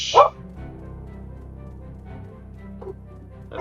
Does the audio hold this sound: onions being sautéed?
no